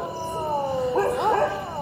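Dogs howling at a distance in a long, wavering drawn-out cry, with a second overlapping howl joining midway over steady background hiss.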